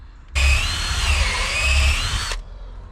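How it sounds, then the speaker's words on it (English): Power drill boring a 12mm hole straight through during a garden building project, one continuous loud whine of about two seconds that starts and stops abruptly, close up with no talk. "Now I'm going to drill a 12mm hole"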